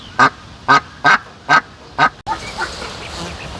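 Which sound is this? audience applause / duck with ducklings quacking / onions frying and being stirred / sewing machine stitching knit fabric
duck with ducklings quacking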